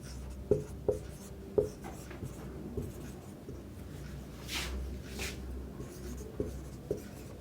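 Pen or marker strokes on a board as a clipboard label is written out, soft scratchy squeaks with a few sharp taps, faint room noise and no speech.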